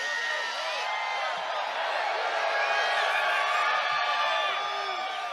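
A big Bernie Sanders rally crowd in Brooklyn keeps up a steady, loud roar of cheering and shouting, with scattered whoops and yells rising out of the mass of voices throughout.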